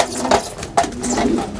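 French meat-breed pigeons in a loft, with a few soft coos and rustling wing and body sounds close by, set against a steady background hum.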